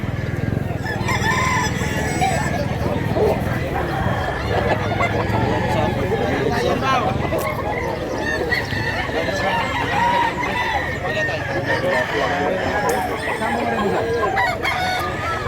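A large yellow-legged rooster crows nearby amid clucking fowl, with someone talking over the steady barnyard noise.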